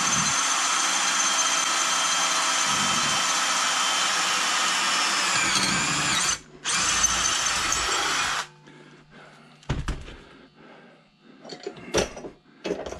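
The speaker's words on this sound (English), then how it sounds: "This is taking a while to drill these dang holes." A power drill drilling holes whines continuously for several seconds, briefly stops and restarts, then cuts off, followed by scattered clunks and handling noises.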